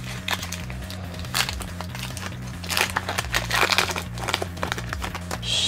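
Pokemon TCG booster pack foil wrappers being torn open and crinkled up close, with scattered crackling bursts over a steady low musical background.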